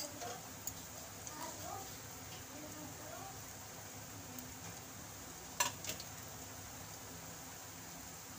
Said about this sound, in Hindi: और फिर ऑयल में ऐसे फ्राई करने के लिए छोड़ देंगे।